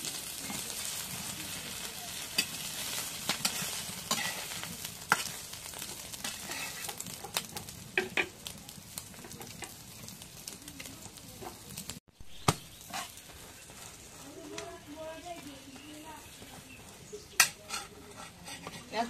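An egg frying in a pan in a village kitchen, a soft sizzle under repeated scraping and clinking of a utensil stirring against the pan, with irregular taps and knocks throughout.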